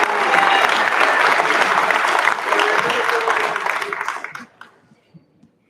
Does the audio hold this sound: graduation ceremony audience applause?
yes